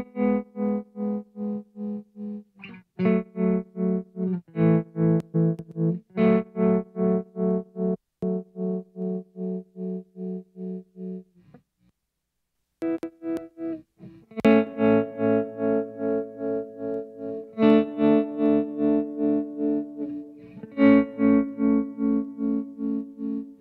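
Electric guitar chords played through a tremolo bus with spring reverb, pulsing rhythmically in a steady throbbing pattern, with a short pause midway before fuller, brighter chords resume.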